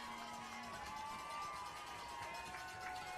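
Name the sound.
crowd cheering at high school football game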